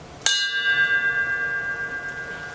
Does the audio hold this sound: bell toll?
yes